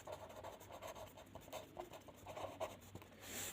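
A maths equation is written out by hand, with faint, soft scratching strokes coming in short bursts close by and no talking.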